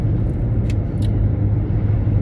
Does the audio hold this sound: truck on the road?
yes